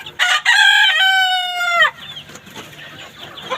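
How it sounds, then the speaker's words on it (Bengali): Silkie chickens cluck close by, then a rooster lets out one long, loud crow that fades into soft clucking and scratchy background noise. "এই যে এগুলো হচ্ছে সিল্কি মুরগি, দেখুন সিল্কি মুরগি এগুলো"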